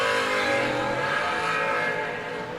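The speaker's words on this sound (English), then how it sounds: "little Billy's going to come right behind him on a 471 in the blower car" Drag racing blower car, a supercharged race car on a 471 blower, accelerating hard with a loud, sustained engine roar that stays close and steady, easing slightly toward the end, with no talk.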